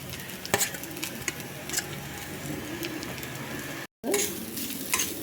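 Grated coconut with fenugreek roasting in a pan, stirred steadily, a soft continuous sizzle broken by scraping strokes, with birds cooing in the background and a brief gap of silence near the end.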